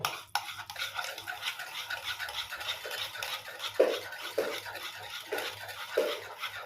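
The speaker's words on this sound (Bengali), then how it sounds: "হ্যান্ড উস্কির সাহায্যে আমি এটা ভালোভাবে ফুটিয়ে নেবো" A hand whisk beats a mixture in a bowl for steamed sweet yogurt, giving a fast, steady scratchy rasp with a few sharper clinks against the bowl.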